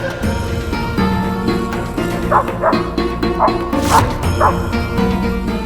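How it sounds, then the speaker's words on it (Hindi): A dog barks and yips several times in short bursts against background music and ambience. "रिश्वान का इस तरह भौंकना"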